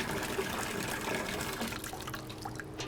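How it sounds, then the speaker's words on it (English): Cold water pours from a bucket into a 1920s laundry copper, a continuous splashing, gurgling fill heard up close that thins toward the end. "I'm going to fill up the copper and let that fill up."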